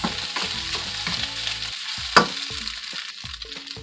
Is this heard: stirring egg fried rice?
yes